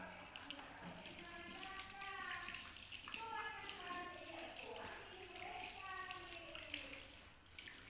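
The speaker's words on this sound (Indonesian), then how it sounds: "Bilas dengan air mengalir." Tap water runs steadily while hands are rinsed at a sink, a soft constant wash with a voice speaking over it throughout.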